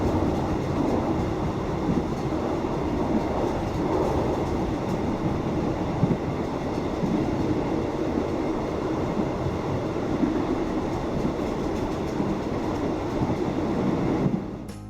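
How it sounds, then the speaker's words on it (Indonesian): An economy-class local train in southern Thailand rolls along, its wheels grinding against the rails in a steady, loud rumble with clattering and rattling throughout, fading slightly at the very end. "kita tuh bisa mendengar suara si rel dengan roda yang saling bergesekan"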